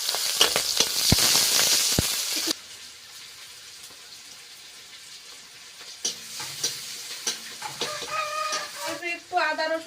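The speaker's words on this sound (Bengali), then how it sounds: "এবার তরকারিটা রান্না করব তো তার জন্য এই পেঁয়াজ কাঁচা লঙ্কা দিয়ে দিচ্ছি" Onion and green chillies go into hot oil for a fish curry with cauliflower and potato, giving a loud, dense sizzle for a couple of seconds that then dies down. Later come stirring noises, and chickens cluck in the background.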